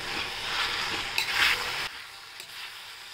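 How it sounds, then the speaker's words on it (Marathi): Leftover rice with mint is stir-fried in a pan, making a soft sizzle and brief scraping stirs close by that quiet down after a couple of seconds, with no voices. "आता छान आपण याला परतून घेऊया"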